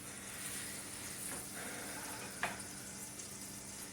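Butter melting in a pan for a batch of Alfredo sauce, giving a faint, steady sizzle and hiss with one small crackle partway through.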